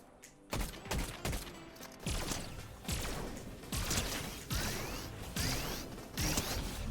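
Fortnite weapon reload during gameplay, a run of sharp mechanical clicks and clacks repeating at a quick, uneven rhythm, loud and close, mixed with bursts of game gunfire.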